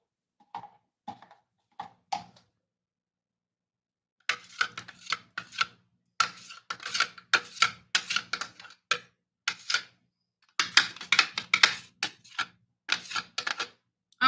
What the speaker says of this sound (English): I'm going to go ahead and mix this dressing in.